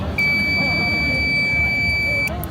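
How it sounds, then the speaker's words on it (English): A DIY intrusion alarm buzzer, triggered when a hand passes between two circuits, sounds one piercing, steady beep for about two seconds over a noisy crowded room. "So it's like an intrusion alarm."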